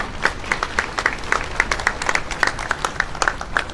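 Applause from an audience at a speech honoring a family, steady overlapping hand claps with distinct sharp slaps, moderately loud and sustained throughout with faint crowd murmur.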